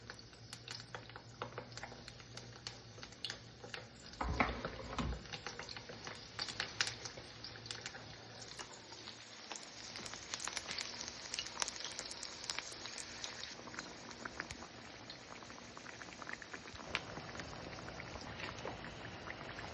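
Sabudana vada dropped one by one into hot oil, frying with a steady crackling patter and a few louder splashes early on, continuous and fairly quiet with no talking.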